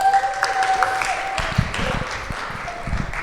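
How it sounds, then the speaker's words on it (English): An audience at a youth group coffee house event claps, a steady spread of applause that runs through the whole stretch, with a voice and a faint tone sounding over it. "Give it up for Jason"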